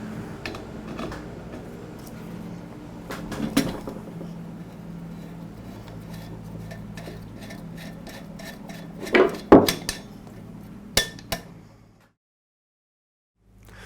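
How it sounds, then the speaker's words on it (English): Faint metallic clinks and ticks come from work on a Ridgid Tri-Stack OF5 air compressor, removing the tube from pump to tank, with a few louder knocks near the middle before it falls silent. "Now we'll go ahead and remove the tube that connects the pump to the tank."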